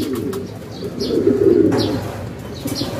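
Racing pigeons coming home to a loft during summer training in La Paz, Tarlac: soft low cooing with a few chirps and brief wingbeat flutters, fairly close, and no talking.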